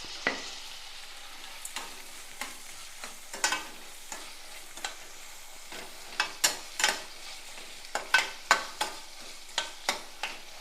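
Tomatoes with salt sautéing in a pan for a brinjal curry, a quiet low sizzle broken by a series of sharp spoon scrapes and taps that grow more frequent toward the end.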